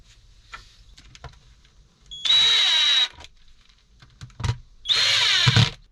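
A power drill bores holes through a solar isolator during a camper van electrical install, two sustained high-pitched whining bursts close up with quieter handling sounds between.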